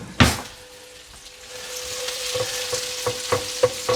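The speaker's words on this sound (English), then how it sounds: "Alright, in with the onion. And I'll get a bit of garlic as well." Onion and garlic fry in a pan with a steady broadband sizzle, opening with a loud clatter as they go in, then a faint tonal hum and a run of soft repeated knocks from stirring, all without talk.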